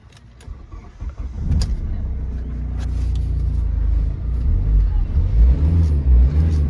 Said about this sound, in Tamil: இப்போ நான் வண்டி ஸ்டார்ட் பண்ணுறேன்.